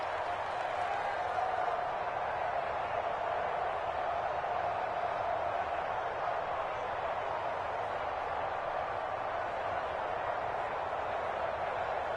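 Sustained roar of a large stadium crowd cheering and applauding during a football game's third-and-goal play, a dense, steady wall of noise that holds at an even loudness throughout.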